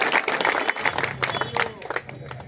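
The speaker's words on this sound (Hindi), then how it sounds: "जोरदार तालियां" A crowd at a political rally claps and cheers in a short, uneven burst, with voices shouting and talking over the applause as it fades.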